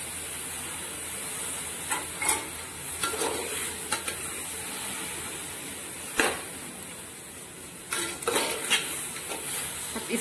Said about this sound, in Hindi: थोड़ा थोड़ा दूध डालते जाइए और उसको चलाते जाइए।